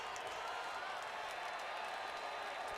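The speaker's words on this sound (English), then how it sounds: "You could just listen to the crowd here." Steady crowd noise at an LSU baseball game after a strikeout, a broad continuous roar of cheering and applause that holds level and fairly loud throughout, with no clear individual voices.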